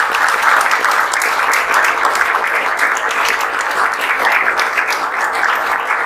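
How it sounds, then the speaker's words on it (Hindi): Vigorous, continuous audience applause at a JEE Main 2024 results gathering, many hands clapping at an even, full level for the whole stretch without any voices. "तो हम चाहेंगे आप लोग एक बार जोरदार ताली"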